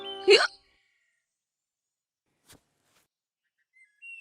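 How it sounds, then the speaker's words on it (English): A cartoon child gives a single loud hiccup near the start, followed by near silence with only faint brief sounds afterward. "Hiccups all gone?"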